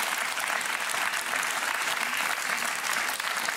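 Dense, sustained applause from a large audience after a performance, loud and even throughout with no voices rising above it.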